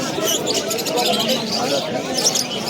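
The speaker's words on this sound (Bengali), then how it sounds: "এক পেয়ার ফেন্সি পায়রা দেখাচ্ছি দেখুন" Fancy pigeons coo amid a busy, noisy crowd at the Uluberia pet market, with chatter and general bustle continuing throughout.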